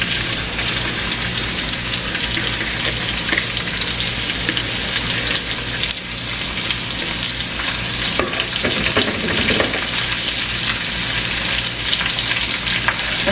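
Onions frying in oil in a full pan: a loud, continuous crackling sizzle with dense spitting, steady throughout, with occasional soft shuffling as the pieces shift, close up and with no voices.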